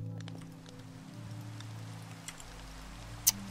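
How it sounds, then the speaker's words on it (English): Rainfall in the Minecraft video game, a steady soft hiss of falling rain over a low background hum, with one brief sharp click near the end and no voices. "Is that rain? Oh, rain's coming on."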